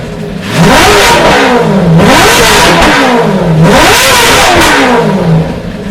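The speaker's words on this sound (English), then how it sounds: "A newly developed P60B40 V8 engine was quickly placed in the race car before the beginning of the racing 2001 season." A BMW M3 GTR race car with a P60B40 V8 engine revs loudly and close, climbing and falling through several sharp rises in pitch without any voices.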